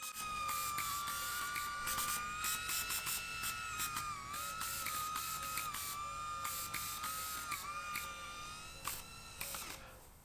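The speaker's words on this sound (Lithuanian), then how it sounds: "paskutinis pavyzdys yra mano neseniai pastatytas dujinis traukos dronas" A small gas-engine thrust drone whines at a high, steady pitch that wavers slightly, with rapid mechanical buzzing and rattling throughout.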